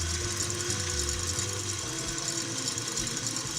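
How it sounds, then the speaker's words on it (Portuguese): Electric stand mixer whipping egg whites with sugar added, a steady mechanical whir and hum running continuously at moderate volume. "deixo a batedeira batendo"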